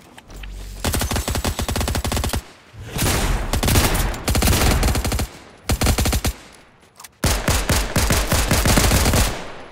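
Automatic gunfire rattles in Fortnite, several long loud bursts of rapid shots separated by short gaps, close and dominant with no talk.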